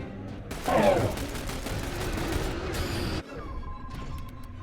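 Gunfire in The Bureau: XCOM Declassified during a squad firefight, a dense burst of rapid shots that swells loud early on and then stays steady before cutting off, with softer combat noise afterward.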